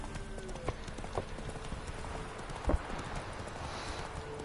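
A horse galloping in The Witcher 3, quick rhythmic hoof clops on the ground at moderate volume, with a few sharper thuds along the way and no speech.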